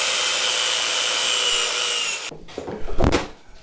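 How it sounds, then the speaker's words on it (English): An angle grinder works over a length of angle iron, a steady bright abrasive whine for about two seconds that cuts off abruptly and is followed by a few rougher, louder contact bursts; no talking. "just going to clean this piece of material up with the grinder real fast"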